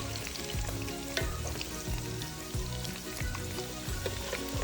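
Potatoes frying in hot oil in a pan for dum aloo, a dense crackling sizzle with repeated stirring and scraping strokes, close and continuous, no talk.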